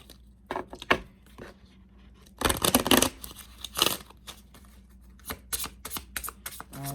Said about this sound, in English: I'm going to pull a few cards from the Manifest Soulmate Oracle deck